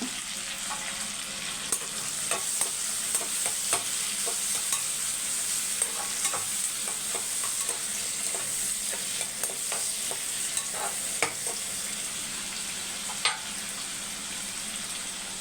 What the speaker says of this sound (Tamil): இப்போ வெங்காயம் வதங்கட்டும்